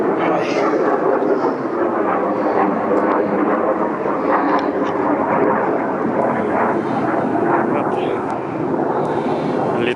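A fixed-wing aircraft passes overhead with a loud, steady, broadband roar that lasts throughout, and a voice is partly heard over it.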